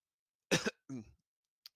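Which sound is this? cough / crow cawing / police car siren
cough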